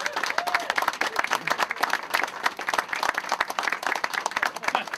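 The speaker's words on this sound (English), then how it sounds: "So Ralph, let's all give a round of applause for Ralph." Crowd applause at an outdoor gateway sign dedication, a moderate patter of individual claps near and far with some voices chattering underneath.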